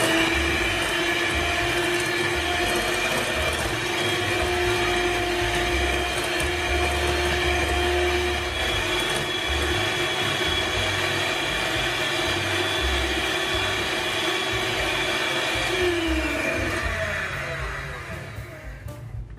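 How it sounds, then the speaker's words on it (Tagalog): An electric hand mixer beats melted butter and sugar: a steady, loud motor whine with a constant pitch that runs nearly the whole time, then dips and winds down at the end, with no talking. "Gamit ang ating electric hand mixer ay i-beat po natin ang ating mga melted butter at saka sugar"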